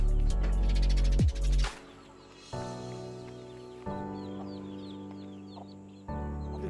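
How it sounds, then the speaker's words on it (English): Chickens cluck and call on a foggy Darjeeling tea estate, set against steady low machinery-like hum from a nearby factory, with bird calls scattered through and a sharp squawk early on. "The group of chickens running around the tea estate"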